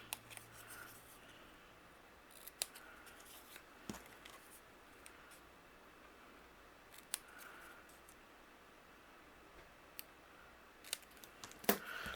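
Scissors cut a strip of pattern paper for card making, fishtailing the end: a handful of quiet, crisp snips spaced irregularly over a near-silent room, with no talking.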